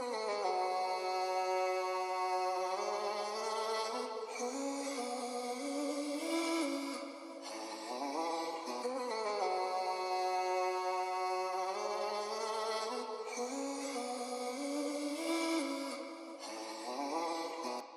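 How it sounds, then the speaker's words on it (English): Pitched, stacked vocal loop processed with stretch mode, its sustained layered voices forming a smooth harmonic chord that shifts through repeating phrases, steady and loud throughout with brief dips between cycles. "it's a simple vocal loop which sounds like this"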